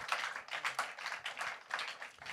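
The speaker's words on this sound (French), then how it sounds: "Que quelqu'un applaudisse pour le Seigneur." A church congregation claps in irregular bursts of applause at a Sunday evening service, fairly quiet and with no voices over it.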